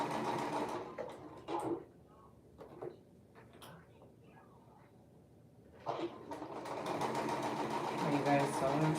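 A home sewing machine with a needle threader runs in short bursts, a soft rapid whirring that starts, stops and resumes more steadily near the end, with a person talking over parts of it.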